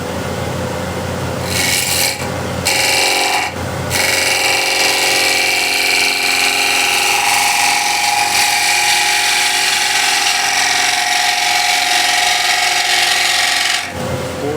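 A power tool grinds into wood, making another hollowing pass on a carved piece. The harsh rasping drone is loud and close and runs steadily for most of the stretch, with brief pauses near the start and a stop at the end.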